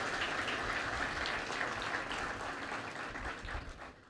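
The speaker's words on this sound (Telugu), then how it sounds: "మీకు వాక్యం అర్థమైతే ఇంకా గట్టిగా కొడతారు చప్పట్లు" Steady, dense applause from a church congregation fills the space, holding strong throughout and tapering slightly at the end.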